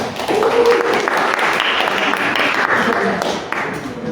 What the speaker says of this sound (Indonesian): Ya, tepuk tangan buat teman saudara.